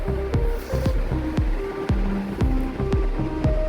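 A wet grinder turns soaked urad dal into batter with water added, giving a loud continuous churning rumble with regular rhythmic knocks about twice a second.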